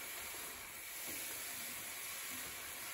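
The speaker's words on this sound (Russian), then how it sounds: "Хорошо надо перемешать, чтобы баклажаны перемешались с луком, с маслом, с перцем." Eggplant stirred with onion, oil and pepper in a hot pan, a steady soft sizzle and hiss continuing for a few seconds with no talking.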